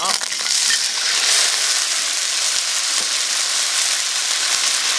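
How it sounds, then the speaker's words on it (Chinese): Aged tomatoes stir-fried in a little oil in a hot pan give a steady, loud, close sizzle with a few faint scrapes and clicks of stirring, and no talking. "咱们再把这个陈年的西红柿啊下锅炒"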